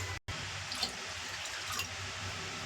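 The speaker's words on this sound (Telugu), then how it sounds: "కొంచెం వాటర్ వేసుకుందాం" Water poured from a tap into thick packet milk in a pot, a steady close trickle and splash running the whole time with a brief break near the start, no voices.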